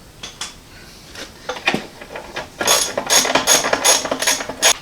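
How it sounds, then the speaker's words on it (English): A ratchet turns bolts on a Ford AA truck in a shop, with a few scattered clicks and metal clanks at first, then rapid close ratcheting bursts in quick succession. "Think I would have had the ratchet ready ahead of time."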